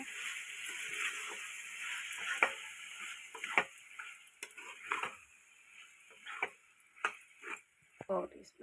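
Dried red chili powder is stirred into a sizzling fry dish in a pan. Soft frying crackle runs underneath, broken by intermittent scraping and clinking stirs, and faint voices can be heard at times.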